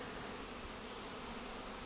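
Honey bees, including Buckfast, buzz around the upper entrance of a shaded hive during a February winter cleansing flight, a steady dense hum that stays level throughout with no voices.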